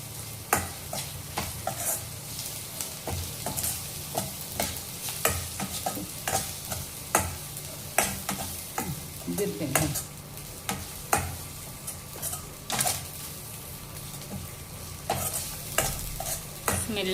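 Ginger garlic paste and turmeric frying in a pan for a ridge gourd fry, a continuous close sizzle broken by regular spatula scrapes and knocks against the pan, with no voices.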